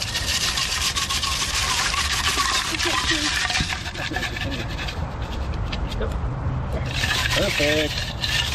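Dirt shaken in water while prospecting for gold makes continuous gritty rubbing and sloshing, steady and close, with voices talking briefly over it near the end.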